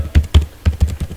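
Close, crisp keystrokes on a computer keyboard land in a quick irregular run of about six taps within a second, with no talk over them.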